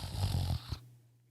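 A person imitates snoring with one long, loud snore rolling out for about half a second, then a short snort, trailing into a faint low hum.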